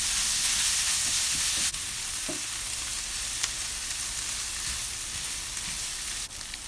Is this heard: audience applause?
no